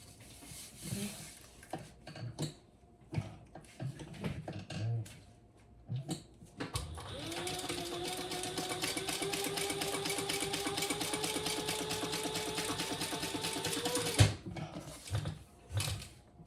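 A sewing machine top stitches a wallet in one steady mechanical run of several seconds, close and moderately loud, with scattered handling clicks and taps before and after.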